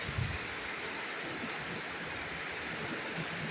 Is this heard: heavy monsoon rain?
yes